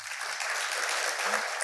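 Steady applause from an audience at a lecture on loyalty, filial piety and etiquette education fills the whole stretch, dense and even throughout with no talk over it.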